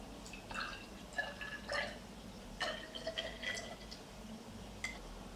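Grapefruit extract is poured into a small 30 ml glass bottle, giving faint, close drips and trickles with light glassy clinks in a quiet room.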